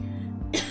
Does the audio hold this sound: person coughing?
yes